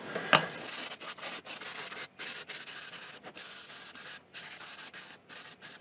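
An Intel i7 3770 CPU heat spreader is being sanded down to the copper, giving close, rhythmic rasping strokes in even back-and-forth bursts with short gaps between them and no talking.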